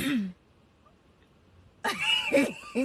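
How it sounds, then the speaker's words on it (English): A quick throat clearing comes first, then a pause of near silence, followed by a voice speaking. "not you clearing your throat"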